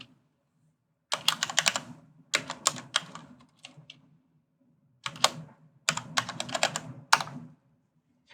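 Computer keyboard typing while a node is renamed in DaVinci Resolve 17's Fusion page: several short bursts of quick, crisp keystrokes separated by brief pauses, close and clear against a quiet background, no speech.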